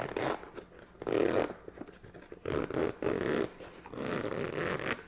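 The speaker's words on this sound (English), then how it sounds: "I'm going to open it up with a zipper" A zipper pulled open in several short, rasping bursts, close and fairly quiet, with brief pauses between the pulls.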